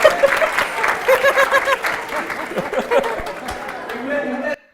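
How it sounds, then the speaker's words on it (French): An audience claps steadily with scattered cheers and laughter mixed in, voices carrying over the applause until it cuts off near the end. "On applaudit tous cette équipe d'abord."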